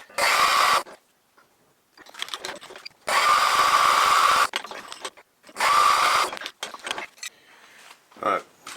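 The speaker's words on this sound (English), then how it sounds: "I can now drill this hole." A power drill whines in three bursts drilling a pin hole in metal, each lasting about a second or so, with quieter clicks and handling noises in the pauses between.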